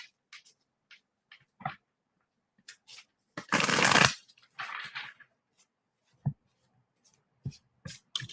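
Tarot cards shuffled by hand at a table, with soft scattered slides and taps, then a dense riffle lasting about a second, followed by more light card handling in quiet surroundings.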